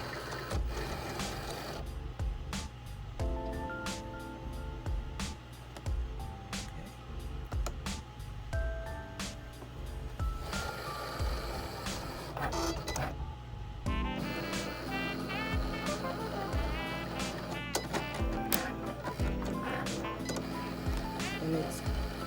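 A Cricut cutting machine slices heat transfer vinyl for layered designs, a steady mechanical whirring and tapping that runs throughout beneath background music.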